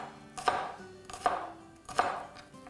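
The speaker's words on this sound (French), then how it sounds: "Donc je vais hacher ça." A knife chopping garlic on a cutting board, three distinct heavy chops spaced evenly about three-quarters of a second apart, close and quiet with no talking.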